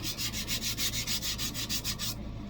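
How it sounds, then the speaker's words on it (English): Steady rhythmic sanding, quick back-and-forth rubbing strokes on a small figure, close up, repeating evenly before stopping. "And now I'm just going to give this guy a whole sanding."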